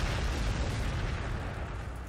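Frag missiles bursting among a mass of orcs in Warhammer 40,000: Sanctus Reach, heard as a dense, continuous rumble of overlapping blasts that stays steady and loud without a break.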